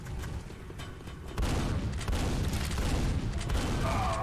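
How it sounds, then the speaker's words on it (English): Grenade blasts in a video game, a muffled booming rumble that swells sharply partway through and stays dense and heavy, with crackling debris and gunfire mixed in. "God damn, they have a long reach with those grenades."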